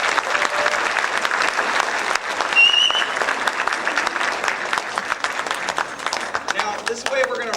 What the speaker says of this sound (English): So can I please give a round of applause for the parents that are here?